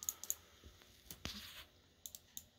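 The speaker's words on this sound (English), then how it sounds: "Clicks are extremely loud." A silver Targus optical USB laptop mouse, budget grade, gives sharp button clicks, a few scattered single and double clicks with quiet gaps between, close and crisp against a faint background.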